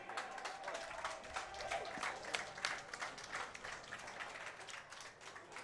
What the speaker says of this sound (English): You might be able to hear the clapping in the background there